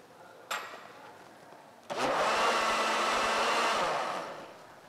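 A blender beats eggs and cornmeal into batter: after a brief click, the motor starts with a loud, steady whirring roar that lasts a couple of seconds and then winds down.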